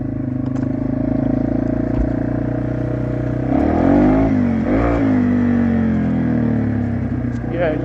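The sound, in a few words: Yamaha TW200 motorcycle accelerating at full throttle in first gear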